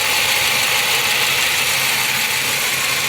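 A 1990 Pontiac Bonneville engine with 323K miles idles steadily and close, a constant hum with a faint hiss and no voices.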